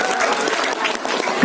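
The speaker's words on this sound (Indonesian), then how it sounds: "Tepuk tangan untuk guru-guru ya." Audience applause for teachers at a Maulid Nabi celebration, a dense burst of many people clapping, loud and close, with some crowd voices mixed in.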